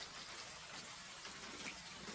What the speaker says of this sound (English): Tonight, autumn rain drifts softly through Willow Town.